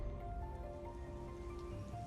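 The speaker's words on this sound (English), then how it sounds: "the cockpit voice recorder picked up the sound of rain hitting the windscreen" Rain drums on the cockpit windscreen of an Air France airliner, a soft, continuous patter heard faintly under a steady low drone.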